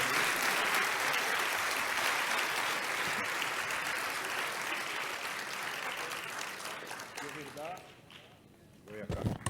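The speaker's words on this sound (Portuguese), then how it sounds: "Demos un fuerte aplauso a Valdemar por este muy interesante taller." An audience claps loudly and continuously after a workshop on agile methods, a dense applause that slowly thins out and fades toward the end, where a voice begins speaking.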